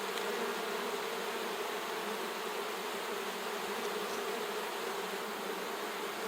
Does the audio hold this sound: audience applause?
no